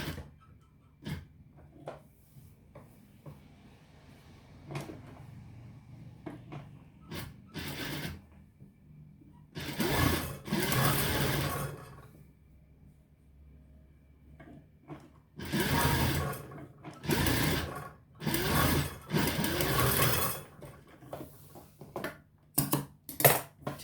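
A sewing machine stitches a kameez in several loud bursts of rapid whirring, separated by quieter gaps filled with small clicks and handling sounds, with no voices.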